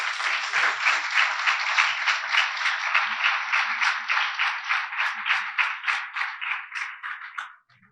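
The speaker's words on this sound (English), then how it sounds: "Let's hear it for a big round of applause for the team again." A large audience claps for a team at a conference, steady dense applause with a rhythmic pulse that holds for several seconds before tapering quickly to silence.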